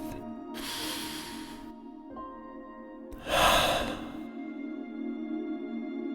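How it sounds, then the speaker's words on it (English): A deep breath drawn during a quiet guided relaxation, two airy swells of breathing at close range, the second louder and fuller, over a steady low hum with no talking. "Take a deep breath."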